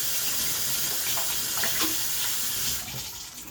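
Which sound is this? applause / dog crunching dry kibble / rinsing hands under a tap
rinsing hands under a tap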